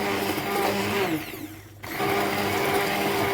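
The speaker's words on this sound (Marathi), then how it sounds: "माझ्याकडे हँड मिक्सी आहे त्याच्यामुळे हँड मिक्सीनी हे बारीक करून घेणार आहे" A hand blender purees ash gourd soup in a pressure cooker, giving a loud, close electric whir that dips briefly as the motor slows, then resumes at a steady pitch, with no talk.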